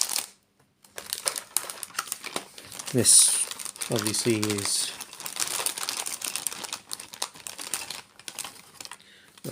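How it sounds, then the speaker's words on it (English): Plastic packaging from Warhammer Age of Sigmar items crinkles and rustles in bursts close by, with someone talking over most of it. "Now, apologize for the rustling because"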